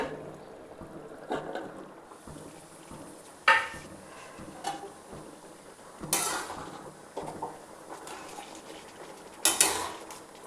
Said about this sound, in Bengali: দেখুন, ঢাকাটা খুলছি এবারে।